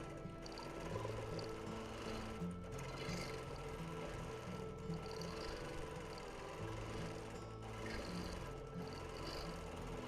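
A sewing machine needle taps steadily through 1930s feedsack cotton during free-motion quilting, a continuous close mechanical rattle with a low motor hum and rhythmic punctures, no talking.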